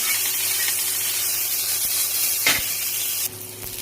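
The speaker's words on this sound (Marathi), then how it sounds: "आणि चार पाच लसणाच्या पाकळ्या पण टाकायच्यात आपल्याला याच्यामध्ये" Garlic cloves and chillies fry in hot oil with a steady, loud, close sizzle, a brief clatter of stirring partway through, and the crackle brightening near the end.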